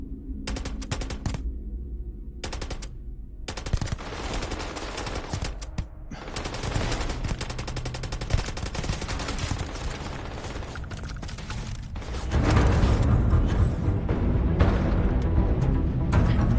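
Automatic weapon fire from the Starfield space game, rapid bursts rattling in quick succession with brief pauses, swelling into a dense, loud sustained barrage toward the end.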